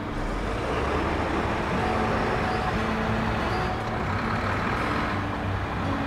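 A CAT 770G haul truck drives in a video game, a continuous low engine drone with a faint steady beeping pattern throughout and no talk.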